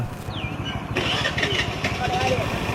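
A motorbike engine starts and settles into a steady, close idle that runs throughout, with people talking over it.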